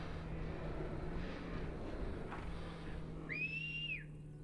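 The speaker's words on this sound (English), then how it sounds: "oh look, he's whistling" A character in the video game Jurassic World Evolution 3 gives a short two-note whistle near the end, clear over a steady background hum and wind-like noise.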